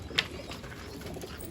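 Pigeons gather at a water dish to drink, giving one brief soft coo-like call near the start over a steady outdoor background with no talk.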